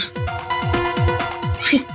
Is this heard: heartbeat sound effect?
no